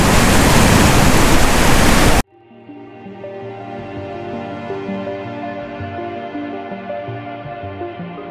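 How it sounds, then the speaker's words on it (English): A flooded river rages through a gold-prospecting area, its loud broadband roar steady and close; after the first couple of seconds it drops to a quieter, lower rushing flow that continues to the end. "the river came up, and boy, is it raging"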